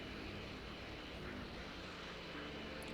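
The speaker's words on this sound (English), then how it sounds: "There are drones flying around here." Drones in the Dragon Ball Z: Kakarot video game give off a steady, faint mechanical whirring drone, a continuous hovering hum with no breaks and no voices.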